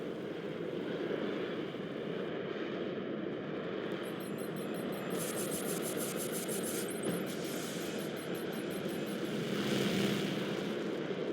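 An airplane flies in the Roblox game War Tycoon, a continuous engine drone with propeller buzz holding steady and fairly close, with brief higher whirring bursts and no talking.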